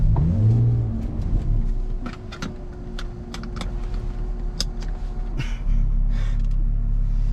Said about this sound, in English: we're about to take a ride in the Jaguar F-Type